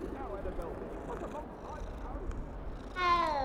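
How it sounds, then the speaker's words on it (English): A cat meows near the end inside the Hogwarts Legacy game, a clear rising-and-falling cry following a stretch of voices and background game sound. "Oh, the kitty."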